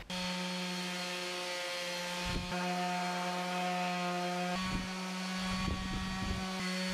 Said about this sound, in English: used the orbital sander to sand the edges where I could reach them